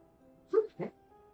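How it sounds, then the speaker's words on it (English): A sleeping dog lets out two soft, muffled woofs in quick succession, close by and faint, over a quiet background hum. "Are you barking in your sleep"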